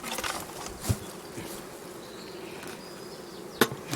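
Honeybees hum softly in an opened beehive while a super is being added, a steady, fairly faint buzzing drone with a couple of brief knocks from handling the hive.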